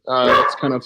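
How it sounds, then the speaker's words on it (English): Dogs bark in the background behind someone talking during an online discussion about a game, the barking brief and mixed under his voice. "apologies for the dogs in the background"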